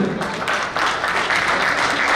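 Applause from the audience at a cricket club awards banquet honouring a batsman, with close, loud clapping from a room of people that swells briefly and holds steady.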